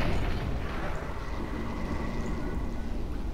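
A rumbling, sustained explosion roars through a scene in the video game Alien Swarm, set in an alien colony, loud and dense with low crackling debris throughout.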